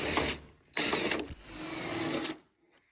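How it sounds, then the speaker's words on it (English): A hand ratchet backs out a 10mm screw at the upper corner where the fender meets a car's front bumper, its pawl clicking in three quick close bursts with short pauses between them. "We'll start off in the upper corner where the fender meets the bumper and remove that 10mm screw."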